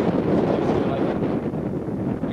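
Gusty outdoor wind buffets the microphone, producing a loud, continuous rumbling roar with no clear breaks throughout.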